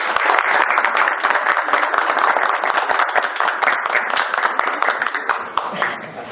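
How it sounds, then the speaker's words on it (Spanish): An audience at an award ceremony claps loudly for a recognition, many hands producing sharp, rapid, continuous applause that stays strong throughout with a slight dip near the end. "brindémosle un fuerte aplauso"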